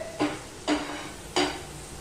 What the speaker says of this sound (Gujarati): આ કાંદા સોટે કરવાના આપણે.